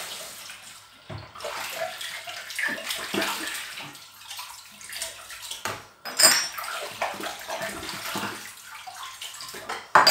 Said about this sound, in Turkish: ben genellikle böyle çamaşır suyunu getirdim de hep dökerim üstüne.